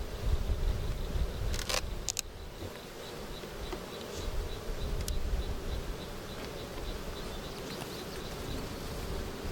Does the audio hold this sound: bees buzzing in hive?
yes